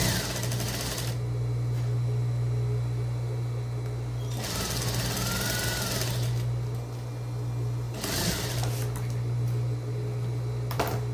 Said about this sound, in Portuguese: Vamos costurar esse lado da cava, ó.